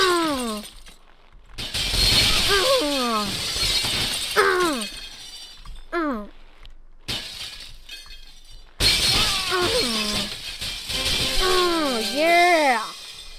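Glass shatters repeatedly on the glass drop stage of the Happy Wheels video game, loud crashing bursts mixed with high cartoonish character cries and yelps across the span.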